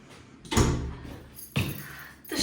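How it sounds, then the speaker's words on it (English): A toilet door in a German student dorm swings and closes with two heavy, close thuds about a second apart, followed by rustling. "So let's just close the door"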